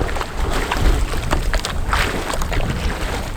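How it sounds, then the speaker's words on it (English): A windsurf board paddled by hand through the water at a dock during a novice lesson, with steady splashing and sloshing under constant wind and microphone rumble, no voices. "Okay, novices, please paddle out first."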